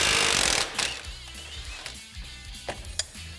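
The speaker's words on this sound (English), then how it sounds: "Now we're going to remove our shock bolt." A shock bolt removed from a Polaris RZR PRO R with a power impact tool, heard as a close loud burst of rapid hammering, followed by quieter clicks and metallic clanks.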